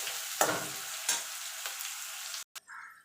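Onions frying in a pan for an egg and spinach dish: a steady bright sizzle broken by three scraping stirs of a spatula, close up, then a brief cut and quieter hiss, no talking.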